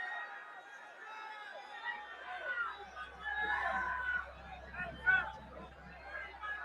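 A concert crowd at a show, a dense distant babble of many voices with shouts and screams rising and falling, and a low rumble underneath.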